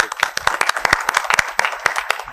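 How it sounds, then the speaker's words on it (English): Audience at a vascular and endovascular surgery conference session claps for a couple of seconds, a fairly small group producing a dense run of close, sharp hand claps with a few louder individual claps standing out. "And a big clap for this."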